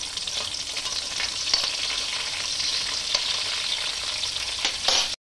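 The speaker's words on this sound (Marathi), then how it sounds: "आपण हिरवी मिरची आणि लसूण मस्तपैकी असं खरपूस करून घेतलं आहे" Green chillies and garlic frying crisp in a pan for a bitter gourd pickle, a loud, dense, continuous sizzle close by with faint stirring, no voices.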